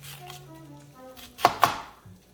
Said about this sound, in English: And then we're gonna use this cleaver and just chop these